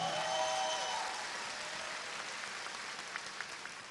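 Audience applause at a Myanmar Idol Season 3 televised singing competition, a broad wash of clapping that starts loud and fades gradually, with faint scattered claps continuing alone toward the end.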